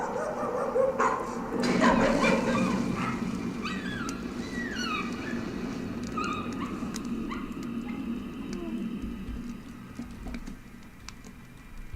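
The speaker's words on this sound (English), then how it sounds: "That wasn't a happy dog." A dog barks inside the horror game Layers of Fear, a few rough yelps and whimpers rising over a dense, murky ambient score, fairly close but partly buried in the game's droning background.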